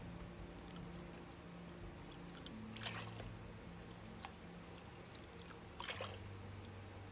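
Two cups of water go into a pot of sweet chilli sauce mixture in a home kitchen, giving a faint, soft pour and a few wet splashes under a steady low room hum.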